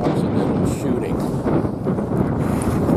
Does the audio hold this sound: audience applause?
no